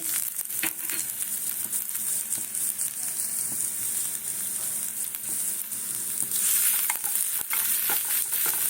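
Garlic frying in a pan as the base of a momo sauce, giving a dense, even sizzle close by with occasional light stirring clicks throughout.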